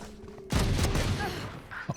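Loud burst of gunfire from a first-person shooter game, a dense volley erupting after a quiet start and rolling on for over a second before tapering, with a couple of smaller pops near the end.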